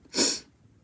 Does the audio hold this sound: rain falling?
no